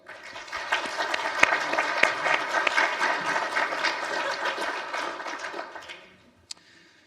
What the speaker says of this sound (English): Thank you very much. Round of applause.